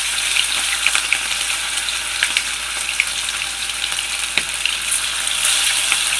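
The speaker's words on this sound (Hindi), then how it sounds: "याद रखिएगा कि मुस्तकिल दरमियानी आंच पर ही हमें मछली के टुकड़ों को तलना है।" Fish pieces frying in oil over medium heat give a steady, bright hissing sizzle with scattered pops and spits, close and even throughout, and no one speaking.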